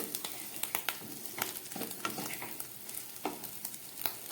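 Pieces of rohu fish roe fry in a pan with a steady close sizzle, broken by light scraping taps as they are stirred.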